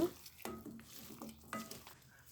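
Country chicken is mixed by hand with chopped tomato, green chillies and mustard oil, making soft, wet squelching pushes in a few separate bursts, quiet and close, with no talking.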